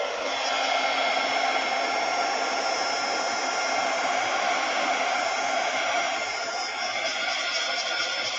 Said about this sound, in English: Well, I'm going to use my heat gun.